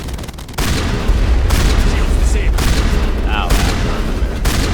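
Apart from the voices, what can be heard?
sniper rifle gunfire in Mass Effect video game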